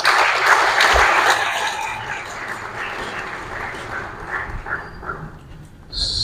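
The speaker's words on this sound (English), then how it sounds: "Please give me a round of applause" Audience applause at a science education foundation event in Nigeria, a dense wash of clapping that starts full and gradually thins and fades over several seconds.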